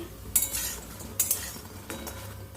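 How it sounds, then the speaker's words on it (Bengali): Besan fritters frying in a little oil in a home kitchen, a soft steady sizzle broken by a few clinks and stirs of a utensil against the pan. "তবে কম তেলে ভাজছি, বেশি তেল দিচ্ছি না।"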